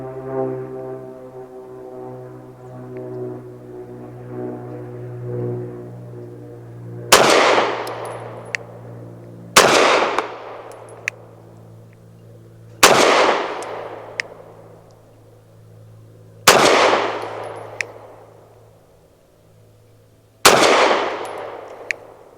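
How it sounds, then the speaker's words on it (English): Five loud, sharp shots from a Ranger Arms RA9 Defence 2 pistol firing 124 grain rounds at a target 7 yards away, spaced a few seconds apart, each with a short ringing decay over a low steady hum. "5 shots of normal 124 grain on a 1-inch square from 7 yards"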